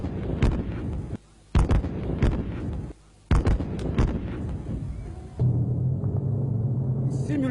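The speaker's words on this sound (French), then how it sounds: "Et là, ce sont des tirs réels et ça va faire beaucoup de bruit." Live military firing drill by the Malian army with bazookas and artillery: a series of sharp heavy blasts in close succession with brief gaps between them, then a lower sustained rumble and drone as the firing continues.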